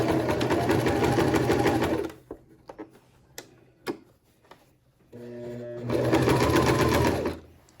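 A sewing machine stitches a shirt seam in two loud steady bursts of rapid mechanical whirring, separated by a quiet gap of small clicks and handling taps, with a faint low hum in between as the needle is reversed for back stitching.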